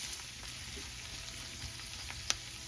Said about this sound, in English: We're going to saute this for just a couple minutes